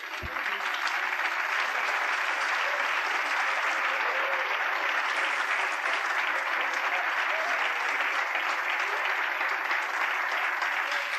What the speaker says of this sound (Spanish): Démosle un aplauso a ese.